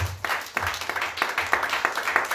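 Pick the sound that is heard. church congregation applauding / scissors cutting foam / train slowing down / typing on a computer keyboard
church congregation applauding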